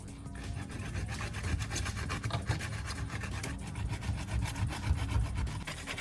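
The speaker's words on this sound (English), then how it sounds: "use sandpaper to smooth the surface around the connection" Sandpaper rubbed back and forth over a glued styrofoam joint, a steady close-up rasping scrape running continuously with dense, even strokes and no voices.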